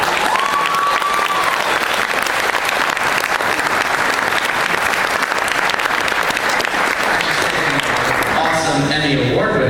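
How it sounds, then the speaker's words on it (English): Convention crowd at a San Diego Comic-Con 2013 Hasbro Transformers Prime panel bursts into loud, sustained applause that fills the hall for nearly ten seconds, with a brief whistle early on and a few voices and cheers mixed into the dense clapping. "let's all just give these guys a big round of applause."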